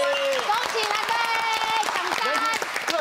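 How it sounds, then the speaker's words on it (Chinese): At a children's school team game show, clapping and cheering salute the winning team, a busy burst of applause mixed with excited voices and a host talking over it. "冠军，掌声鼓励。"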